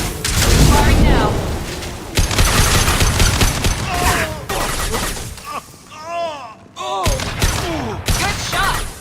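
Heavy barrage of gunfire and booming blasts in a Mass Effect 2 firefight, loud and continuous, with shouted voices cutting through the shooting throughout.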